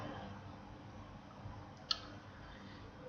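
A single crisp computer mouse click sounds once, near and quiet, against a low steady room hum while a Unity3D golf ball movement scene is edited.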